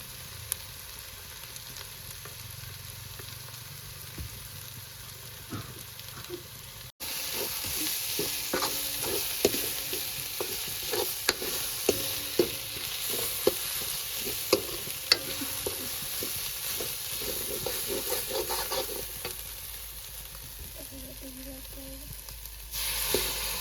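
Spices, turmeric among them, fry in a pan for a Gujarati corn curry: a quiet sizzle for the first few seconds, then a louder, steady crackle broken by frequent sharp clicks of a spoon stirring against the pan.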